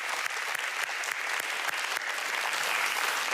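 A church congregation claps steadily in warm welcome for new members, a dense sustained round of applause from a full room without pause.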